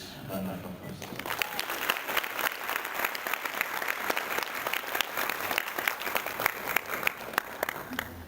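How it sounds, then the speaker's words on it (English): A conference hall audience gives a sustained round of applause, dense clapping that builds after a brief pause and holds steady at moderate distance. "Let's give Mr. Gaza a good round of applause."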